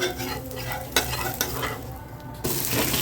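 Dosa batter made from black kavuni rice sizzles on a hot pan in a close, continuous crackling hiss, broken by a few sharp scraping knocks and swelling louder near the end.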